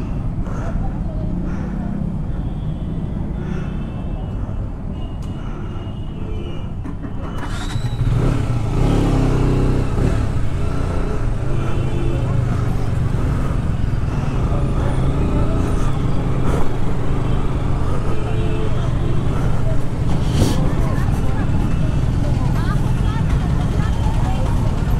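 Dense, jammed road traffic near Lalpur Chowk, heard from a motorbike: a steady roar of engines with revving motorcycles and cars that grows louder partway through, a continuous busy din without clear talk.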